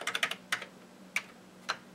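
Keys tapped on an Amiga 1200 computer keyboard, a quick burst of four clicky strokes followed by a few isolated presses spaced apart, close and quiet with no talk.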